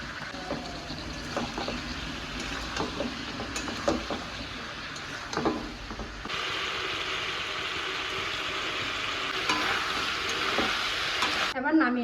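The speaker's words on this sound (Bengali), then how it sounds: "মাংসটা হালকা ভাজা হয়ে গেছে" Meat fries in a pan with turmeric during a Bengali curry preparation, a steady sizzle with intermittent stirring clatters, growing denser and louder toward the end.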